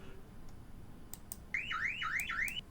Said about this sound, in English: Oh, the assault alarm works as well.